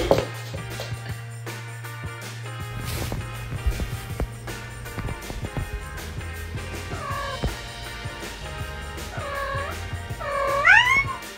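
A cat meows several times over a low steady hum and background music, the meows rising and falling in pitch, fairly close.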